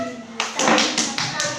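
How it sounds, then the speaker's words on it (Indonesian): Elementary pupils in a classroom clapping for a presenting group: a few sharp, scattered claps, then a brief ragged burst of applause that fades quickly, heard close by. "tepuk tangan untuk kelompok 3"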